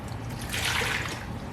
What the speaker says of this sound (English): we're going to start by adding our 2 cups of warm water